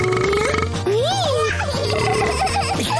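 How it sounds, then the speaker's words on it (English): A cartoon character lets out a drawn-out, rising and falling burp at a restaurant table in a kids' cat cartoon, close and loud among childish voices, giggles and background music. "it's not a burping competition"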